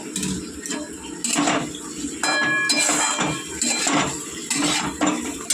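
Cauliflower goes into a cooking pot amid clattering utensils, with metallic clinks, knocks and scrapes against the pot in irregular bursts over a steady background hiss, close and fairly loud.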